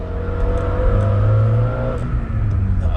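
A Honda CRX engine revs steadily and loudly, a low throbbing drone that holds through the clip as the car pulls away, with no talk over it.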